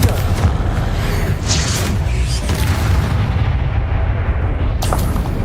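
Spell explosions from the Hogwarts Legacy PC game burst out as loud, rumbling booms, several blasts in quick succession with a sharp crack near the end, over a continuous thick roar.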